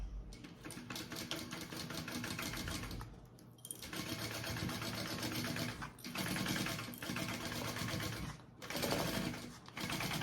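A sewing machine runs a reinforcement seam on a tote bag in several quiet, fairly close stretches of rapid stitching, separated by short pauses.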